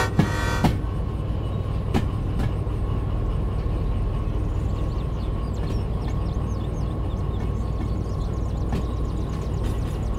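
A high speed passenger train in the video game Derail Valley rumbles past, loud and close, with a steady heavy drone and a few sharp clanks over about ten seconds.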